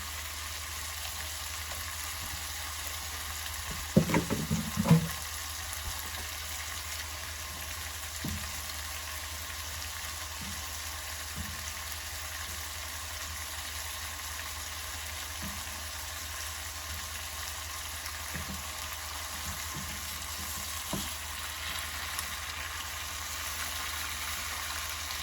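Onions frying in a pan for goulash, a steady low sizzle throughout with a brief clattering burst early on and a few soft knocks, no speech.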